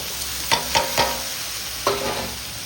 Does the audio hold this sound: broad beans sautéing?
yes